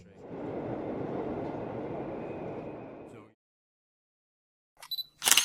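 A train in the Kane & Lynch video game gives a steady, loud rumbling roar for about three seconds before cutting off abruptly. Silence follows, then a few short, sharp noises.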